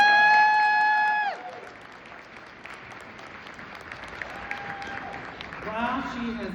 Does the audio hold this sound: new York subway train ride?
no